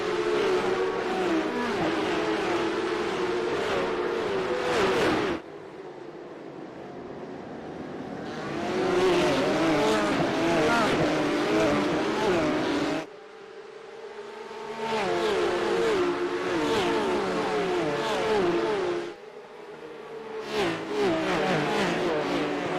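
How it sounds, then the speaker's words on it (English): Porsche Cup race car engines in a racing video game, revving hard together at a standing start at COTA, loud and sustained with surging pitch and brief drops between bursts, no talk. "Let's wind these engines up for a standing start at COTA."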